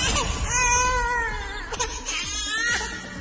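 An infant cries loudly and close by in a wavering, sobbing wail that breaks into short gasping bursts before rising again.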